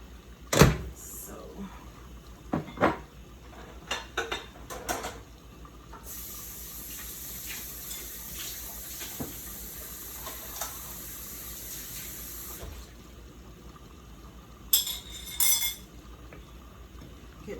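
Ladle pulled from a kitchen clutter of dishes and cutlery, with scattered clinks and knocks, a stretch of running water hissing, and more clattering afterward, all fairly close.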